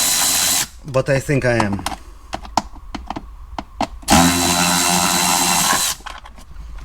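Ratchet working a bolt loose inside the dashboard of a Mercedes CLK350 W209, a run of quick sharp clicks and taps up close, with someone talking before and after the bursts.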